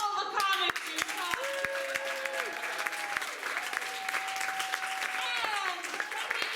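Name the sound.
audience applause for the comics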